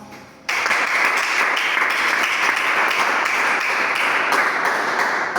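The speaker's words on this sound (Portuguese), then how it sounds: "Os irmãos louvam o Senhor com as palmas." A church congregation claps hands in praise during a Portuguese-language sermon on Ezekiel's valley of dry bones; steady, dense applause starts abruptly and fills the room, loud and continuous, with no voices on top.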